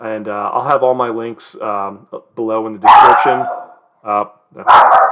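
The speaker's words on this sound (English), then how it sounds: "That's my dog going off, so I better start wrapping up." A dog barking in short loud bursts nearby, mixed with yips, alternating with a man's close speech.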